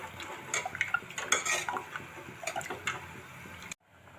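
A spoon stirs moong dal in a metal pot with quick, close scraping and clinking taps in an irregular rhythm, then stops suddenly into near silence.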